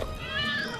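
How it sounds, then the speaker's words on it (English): Cats meow in a TV advert, with a steady, fairly quiet tonal yowl that holds for under a second against a soft background. "Hope you like cats."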